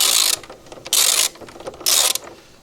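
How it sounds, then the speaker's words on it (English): A 14mm socket wrench ratchet tightens the rear shock bolt on a Honda Forza 350 scooter, three loud, close bursts of rapid clicking separated by short pauses. "Now we're gonna get our 14mm socket wrench and tighten it up."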